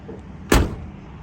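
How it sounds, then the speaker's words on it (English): A single solid thunk comes from a door being shut on a 1967 Ford Mustang Fastback S Code 390 GT, heard close and brief against a quiet background. "Doors shut nice."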